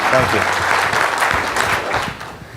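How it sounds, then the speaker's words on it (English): Audience applause at an investor networking event: dense, steady clapping from a crowd fills the whole stretch, loud and close, with some voices mixed in underneath. "let's give him a big round of applause for sharing"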